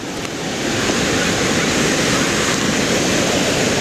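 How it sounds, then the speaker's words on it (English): Sea waves wash steadily around a storm-damaged seawall in Da Nang, Vietnam, after Typhoon Haiyan, a loud, continuous roar of surf with wind buffeting the microphone and no voices. "it's pretty easy to see how the sea goes around this thing and washes it out"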